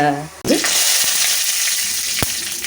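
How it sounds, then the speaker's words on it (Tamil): Ridge gourd sautéing in hot oil for fried rice, a loud, steady sizzle that runs throughout, with a few soft scraping stirs and no talking. "ஃபஸ்ட்டு இது நல்ல எண்ணெயில் வதக்கிடுங்க"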